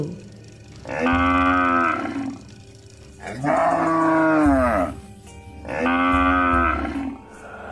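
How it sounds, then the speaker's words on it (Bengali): Three long, loud, drawn-out cow moos ring out one after another with short pauses between, heard at night near a carcass dump with no talk. "এত রাতে ভাগাড়ে আবার গরু কোথা থেকে ডাকছে?"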